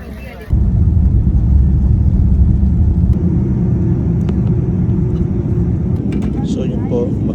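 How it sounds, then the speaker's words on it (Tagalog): Inside an airplane cabin in flight, a loud, steady low rumble of engine and air noise starts abruptly and then holds constant, with a voice talking over it. "So nasa aeroplano na po kami."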